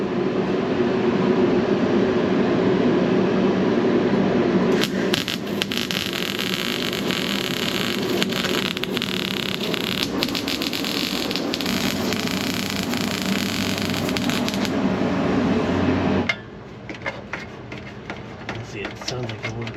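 Welding an exhaust tip onto a car exhaust pipe on a police car, a steady crackling buzz that runs loud and continuous for about sixteen seconds, then drops away, leaving quieter workshop noise.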